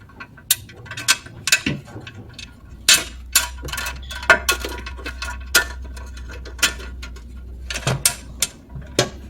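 A ratchet tightens the bolts of a car's CVT oil pan during a transmission fluid, filter and gasket change: repeated sharp metallic clicking bursts in uneven runs, close and fairly loud over a low steady hum, with no talking.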